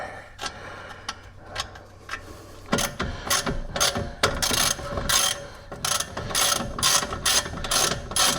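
A ratchet starts the bottom nut on a lower ball joint of a 2018 Chevrolet, quick metallic clicks in uneven bursts, sparse at first then faster and louder, close up with no talk.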